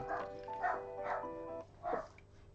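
A dog barks indoors, four short yapping barks spaced unevenly at moderate distance, with a faint tonal hum underneath.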